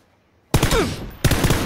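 Two loud, close bursts of rapid video game gunfire, each a dense crackling volley, with a short quiet gap before the first and another brief gap between the bursts.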